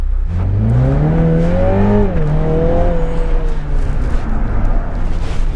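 Front-engine, front-wheel-drive Mini Cooper on new Kumho tires running an autocross course, its engine revving up and down through the gears loudly and close, with rising and falling pitch as it accelerates and brakes.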